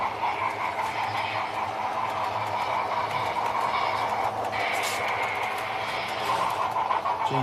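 A military train rolls past, a steady rumble of rail wagons with faint rhythmic clatter, sustained at moderate volume, and a brief higher squeal or horn-like tone near the middle.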